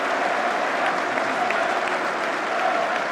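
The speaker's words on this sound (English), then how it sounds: "he's getting a standing ovation now" Dense, sustained applause from a large cricket crowd giving a standing ovation at an England v West Indies Test match, steady clapping throughout with faint commentary underneath.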